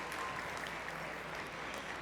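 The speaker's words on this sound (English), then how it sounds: "Round of applause." A room of guests applauds at an annual awards dinner and gala, a dense, even roar of clapping hands that stays steady and unbroken throughout.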